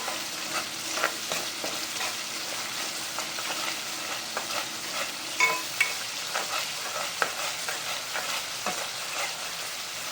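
Spice masala frying in a pan for a dry fish curry, a steady sizzle with repeated scraping stirs throughout, close and fairly loud with no talk.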